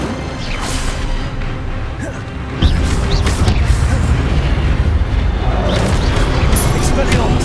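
Incendio fire spell cast in the Hogwarts Legacy video game, a sudden loud whooshing burst that jumps in level and roars on steadily amid other spell effects, with voices talking over it.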